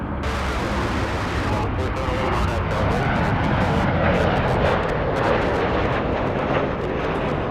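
An Emirates airliner from Dubai comes in to land at Los Angeles International Airport, a loud, steady broadband jet roar filling the whole stretch without a break, close and continuous.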